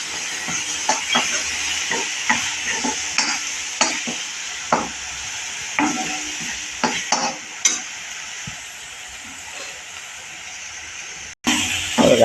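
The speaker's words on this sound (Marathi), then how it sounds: "आपलं वाटप परतून झालं आहे" Ground masala paste for a spicy drumstick curry sautés in a pan, with a steady bright sizzle broken by repeated scraping spoon strokes. Near the end there is a short pause and then a louder burst.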